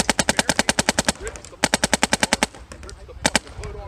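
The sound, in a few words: Macdev Prime XTS airsoft gun shooting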